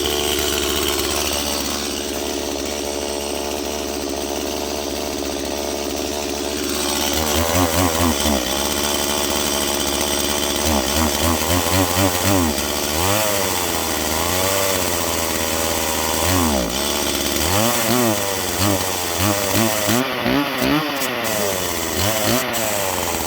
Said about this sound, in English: You can tell it's cold when the chainsaws act like that.